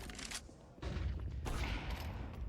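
Gunfire rings out in a Counter-Strike match as shots crack in quick succession amid game ambience, fairly quiet and without talking.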